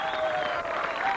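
Brief burst of audience applause for Puerto Rican dancers from the musical El Diluvio Que Viene, a dense, steady patter with crowd noise and a faint voice underneath.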